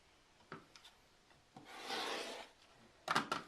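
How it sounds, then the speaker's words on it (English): A quilt trimmer cutting through the top, batting and backing of a quilt block, giving faint scattered taps and then a sustained soft rasping scrape, close and quiet with no voices. "trimming through all layers"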